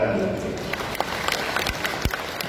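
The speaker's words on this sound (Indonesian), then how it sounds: "Tepuk tangan." A crowd at a district-level Hajj rite rehearsal event in a sports hall claps in scattered, steady applause lasting a couple of seconds, with a voice speaking over it.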